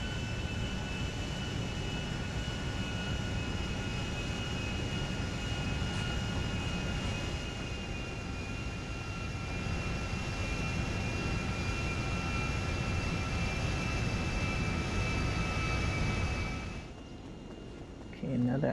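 An airliner rolls slowly into a hangar in GTA V, its steady engine whine and low rumble holding throughout before dropping away near the end.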